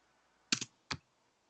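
Typing on a computer keyboard comes through an online chat call: a quick double click followed by a single keystroke, faint and isolated against near silence.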